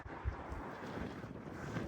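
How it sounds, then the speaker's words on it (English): Strong wind buffets outdoors near a scrapyard container, a continuous rough rumbling roar across the microphone, steady throughout with no talking. "It's really windy."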